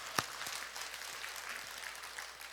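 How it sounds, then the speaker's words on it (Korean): A church congregation claps together during a worship retreat, a sharp burst at the start giving way to soft, scattered applause at a fair distance. "주님께 박수."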